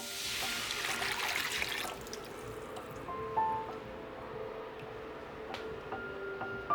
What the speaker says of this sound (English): On medium heat, in goes water.